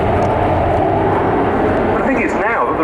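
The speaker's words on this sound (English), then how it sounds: "the pilot is going to be turning downwind to get ready for a rolling vertical landing" RAF F-35B jet at the RIAT 2024 air display turning downwind ahead of a rolling vertical landing, a steady loud engine roar throughout with a rising whine near the end as the aircraft banks.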